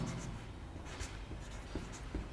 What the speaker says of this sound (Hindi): तो मैं लिख देता हूँ नाम,